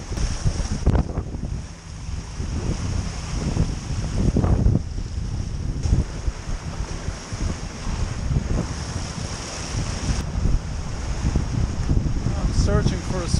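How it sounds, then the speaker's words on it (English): Strong, gusty wind roars across the open water while sailing a boat among the fjords and valleys of Norway in winter, with steady broadband rushing, wave wash and buffeting mic noise throughout. "the wind really picked up"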